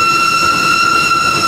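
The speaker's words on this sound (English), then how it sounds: "Oh, here's the train." A cartoon train arrives with a steady, sustained whistle-like tone that is loud and close, holding evenly throughout with no voices.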